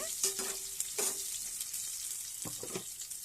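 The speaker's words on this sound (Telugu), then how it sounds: "నేను చిన్న చిన్న ఆనియన్స్ 2 కట్ చేసేసి వేసేసుకున్నానండి. చూడండి, అది కూడా కొంచెం ఫ్రై చేసేసుకోవాలి." Small chopped onions fry in a pan for a ridge gourd curry, giving a steady close sizzle with a few brief stirring clatters and scrapes, and no voices.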